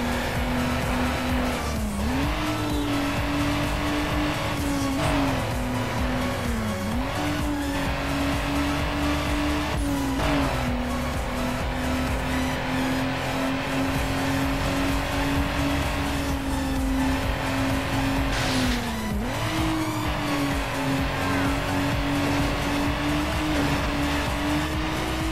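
Race car engine in Need for Speed Underground holds a loud, steady high-pitched drone for the whole stretch, with brief pitch dips at gear shifts and occasional tire squeals, no talking over it.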